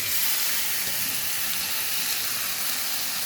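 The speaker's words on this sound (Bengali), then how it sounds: "মশলাটা আমরা একটু কষাতে দেবো এবার আমি এর মধ্যে মাংসগুলোকে অ্যাড করে দেবো" Chicken pieces going into a spice paste frying in a pan for a homemade chicken and potato curry; a dense, even hiss of sizzling fills the whole stretch without pause.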